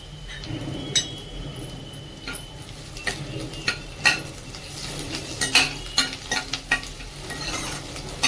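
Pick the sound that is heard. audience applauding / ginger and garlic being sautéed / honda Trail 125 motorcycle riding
ginger and garlic being sautéed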